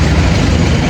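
A bus engine idles outside at a stop in Madagascar, producing a loud, constant low rumble that fills the whole moment with no voices.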